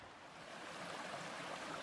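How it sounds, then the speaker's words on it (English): A small creek beside a hiking trail on the South Willamette Trail, heard as a steady, faint broadband rush of flowing water with no voices. "Got a beautiful little creek down here."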